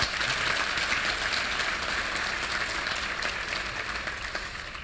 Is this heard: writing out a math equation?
no